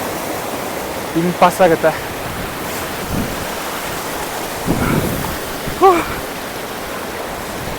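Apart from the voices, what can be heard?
Jogini waterfall near Manali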